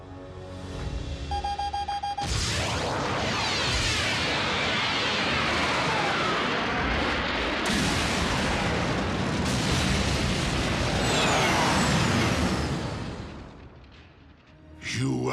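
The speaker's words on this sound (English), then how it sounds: "Just in case you ever wondered what 3 tons of exploding energon sounds like." A massive blast of three tons of energon in an animated Transformers battle: a sudden loud roar that sustains at full strength for about twelve seconds, crackling and rumbling, before it tapers off.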